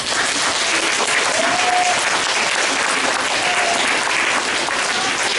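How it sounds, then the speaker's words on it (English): Audience at a school speech event applauding student class representatives on stage, loud sustained clapping throughout, with faint cheers rising above it. "let's give them a round of applause"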